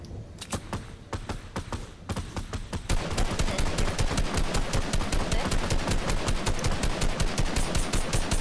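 Gunfire in Fortnite aimed at a falling care package: spaced single shots at first, then a dense, loud, continuous burst of rapid automatic fire with no talking.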